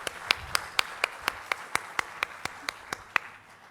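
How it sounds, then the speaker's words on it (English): Audience applause at a graduation ceremony, heard here as about fourteen evenly spaced single claps in a steady rhythm, crisp and fairly close over a quiet room. "give a good round of applause to all of you for taking those steps to come here today"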